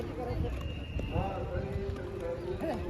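A trained riding horse's hooves clip-clop steadily at a tourist stop, close by, while people chat over the hoofbeats.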